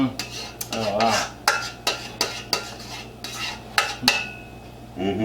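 Casserole filling scraped and spooned into a 1.5 quart casserole dish, a series of close utensil scrapes and taps against the dish, roughly a dozen strokes at an uneven rhythm with a low steady hum beneath.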